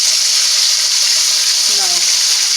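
Chicken and bok choy frying in a pan for a Jamaican-style dish, giving a loud, steady, continuous sizzle with a brief higher tone near the end.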